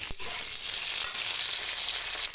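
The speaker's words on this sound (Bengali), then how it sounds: "পটলগুলো দেখো ভাজা হচ্ছে।" Pointed gourd (potol) pieces fry in hot oil in a pan for a fish curry, giving a loud, steady, close-up sizzle with a faint stirring scrape near the start. No voices are heard.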